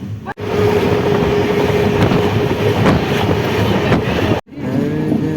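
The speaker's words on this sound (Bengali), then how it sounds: "দেখতে পাচ্ছ ট্রেনটা কত দূর বেঁকে বেঁকে যাচ্ছে" Passenger train on the Hyderabad to Kolkata run, a loud, steady rumble of wheels on rails with faint clickety-clack, continuous throughout with two brief dips.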